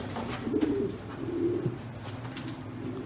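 Racing pigeons coo in low, rolling phrases in a breeder's loft, several birds overlapping, with a steady indoor hum and faint rustling beneath.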